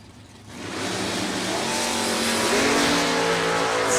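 Drag race cars, including a Camaro, roaring off the line at a bracket drag race, a loud sustained engine blast that swells quickly and holds at full volume with rising tones.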